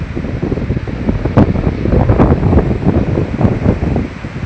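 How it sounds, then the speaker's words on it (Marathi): A flooded river swollen by heavy monsoon rain rushes past in a continuous loud roar, with turbulent surges and wind buffeting the microphone. "किती पाणी धो धो वाहते पाहू शकता."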